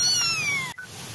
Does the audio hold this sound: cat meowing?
yes